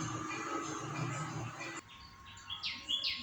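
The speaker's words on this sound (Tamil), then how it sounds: "எங்கள் வீட்டில் குருவி கூடி கட்டுது பாருங்கள்." Sparrows building a nest at home give a few short, bright chirps close by, following a stretch of steady background hum that suddenly cuts out.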